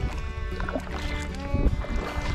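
Kayak paddled upstream at a steady pace, with light splashing and knocking of paddle strokes on the water near the microphone, under faint wind.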